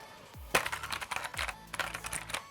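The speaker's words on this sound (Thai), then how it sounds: "เป็นเกมมิ่งคีย์บอร์ด" Typing on a Biostar GK30 RGB gaming keyboard with blue mechanical switches: a few crisp, clicky keystroke bursts in quick irregular succession, close and fairly quiet.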